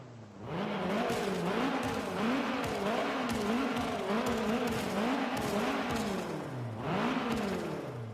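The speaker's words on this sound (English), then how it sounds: "Spits fire pretty much every single rev." Car engine revving hard over and over in a rhythmic series of loud, rising and falling revs, spitting fire on each one, close and continuous with no talk.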